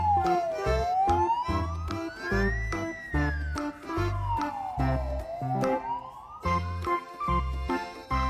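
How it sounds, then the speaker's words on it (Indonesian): A toy ambulance siren wails in a rising and falling electronic sweep, accompanied by a repeating beeping tone pattern, loud and close with no talking over it. "Mobil ambulans."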